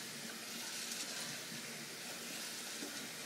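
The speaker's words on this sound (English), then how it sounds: "Washing my rice here now." Rice being washed by hand in water gives a faint, continuous watery swishing and sloshing from the stirring, quiet and steady throughout.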